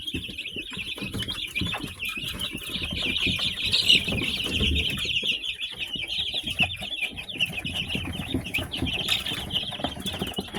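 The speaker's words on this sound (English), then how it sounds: "Dust bathing." Chickens dust bathing flap their wings in loose, scuffling bursts, with soft clucks and a steady high hiss of farm ambience throughout, close and moderately loud.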